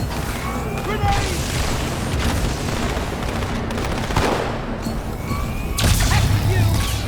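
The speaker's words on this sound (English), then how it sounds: "Grenade!" A grenade blast in Halo 2: Anniversary erupts amid ongoing gunfire and crashing combat noise, loud and close, with voices shouting over the din.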